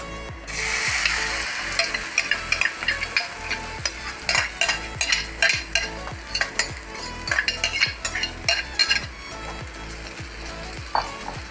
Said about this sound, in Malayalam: പിന്നെ നമുക്ക് അത് ഫ്രൈ പാനിൽ വീത്തണം.